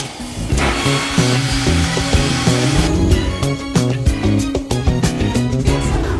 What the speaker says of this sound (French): Notre recette est terminée, on n'a plus qu'à la mixer.